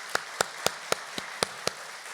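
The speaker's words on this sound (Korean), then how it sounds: "우리에서 한번 감사의 박수 한번 할까요?" Church congregation giving thanks with seven sharp, evenly spaced claps in unison, crisp and close, over a quiet room.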